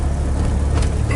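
A 1993 Jeep engine revs steadily as it is shifted into second gear without using the clutch, a continuous low rumble with a brief rise in pitch partway through.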